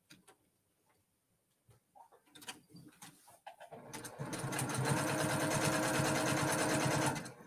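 After a few quiet ticks and handling clicks, a sewing machine starts up and stitches a quilt, a steady, close, loud mechanical whirr for the last few seconds.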